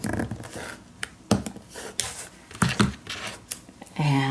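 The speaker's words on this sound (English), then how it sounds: "I'm going to cut the excess off here as well." Scissors snip excess paper from an ATC card holder in a series of short, crisp cuts scattered over a few seconds, close up and fairly quiet, with faint rustling between them.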